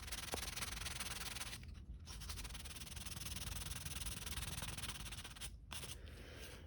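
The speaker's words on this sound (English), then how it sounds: "if you go over it with this" Continuous abrasive rubbing of 220-grit sandpaper over filler primer on a 3D-printed part, steady back-and-forth scratching with two brief pauses, close and alone.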